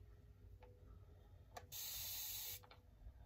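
A short, close hiss of Maybelline dewy makeup setting spray lasts just under a second, with faint pump clicks just before and after, against a quiet room background.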